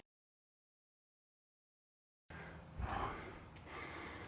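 Heavy, close breathing with sharp gasps after a tennis warm-up of lateral side-to-side movement and dry swings, starting abruptly after a silent first half and continuing steadily to the end.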